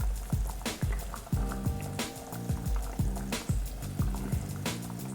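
Masala meatball sauce simmers in a pan, a steady bubbling and liquid burble under repeated sharp clinks of a utensil against the pan.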